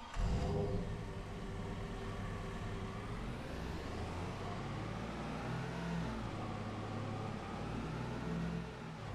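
A truck in Farming Simulator 22 rumbles steadily with a low, continuous engine drone and road noise at a constant level, close and unbroken for the whole stretch.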